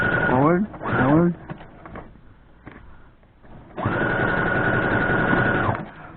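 A sewing machine stitches a fabric strip onto a Christmas advent calendar, running in a steady close whir for a couple of seconds after someone speaks and a few soft handling clicks.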